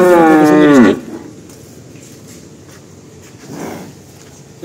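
A single loud, close cow moo with a rising and falling pitch opens the clip at a cattle farm selling breed stock. It is followed by quiet ambience and one much fainter low sound.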